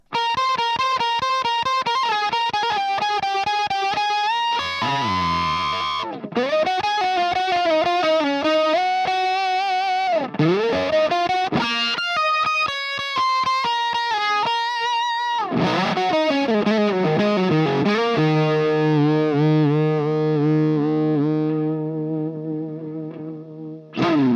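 Loud, heavily distorted electric guitar soloing through an Octavia octave fuzz pedal, a buzzy, octave-doubled tone, bending and sustaining notes, with no voices.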